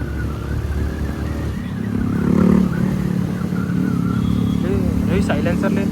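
A motorcycle with no silencer idling and revving loudly at night near HiTec City, a rough, throaty engine drone with a brief surge partway through, heard under people talking nearby.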